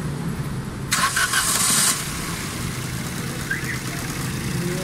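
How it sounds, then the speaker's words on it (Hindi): A 2019 Suzuki Alto with a slow-shutting, fuel-related fault cranks briefly for about a second, then catches and settles into a steady close idle. "हाँ गाड़ी स्टार्ट कर दे"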